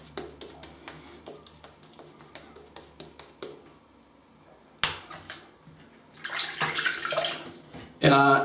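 Tap water splashes while a shaving brush is wetted at a sink, with scattered light knocks and taps first, then short bursts of running water, close and fairly loud.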